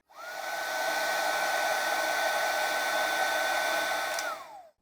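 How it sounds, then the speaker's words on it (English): A Makita DHG181 18V cordless heat gun runs on its second, louder stage as a steady, close blower whine and rushing airflow, starting and stopping cleanly over nearly five seconds with no voices. "in stage number 1, the blower produces a sound emission of around 57 decibels. So let's repeat the process in stage number 2."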